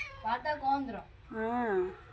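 A mother cat that has given birth to two kittens in a backyard meows twice, close and clear, with a short gap between the calls.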